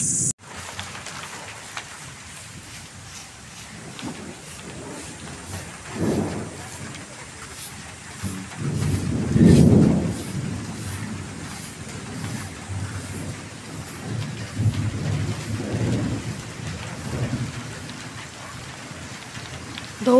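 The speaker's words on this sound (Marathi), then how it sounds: "पाऊस आला" Rain patters on surfaces at a village home, with several low rumbling swells like distant thunder rising and fading, while people talk intermittently nearby.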